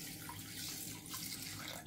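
Clean water poured from a tap onto uncooked rice in a pot for a homemade rice face mask, a steady close running splash of water filling the vessel, with no talk.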